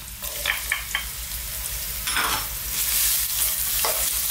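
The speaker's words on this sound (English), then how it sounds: "We're going to start off by adding our ginger" Chunky-cut ginger and garlic sizzle in hot sunflower oil in a wok over high heat, a loud continuous fry broken by a few sharp spatters and stirring scrapes, with no voices.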